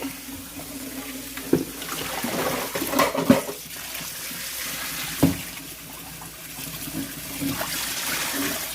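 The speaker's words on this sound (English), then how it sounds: "And you only rinse them out once as far as getting the salt off of it" Tap water runs over salt cod being rinsed in a sink, a steady splashing stream broken by a few sharp knocks and clatters, with no one speaking.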